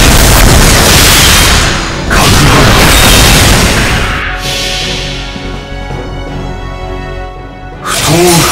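A heavy cannon blast in Fate/Grand Order booms loudly, followed by a long rumbling decay and ringing tones, then another sharp impact at the end.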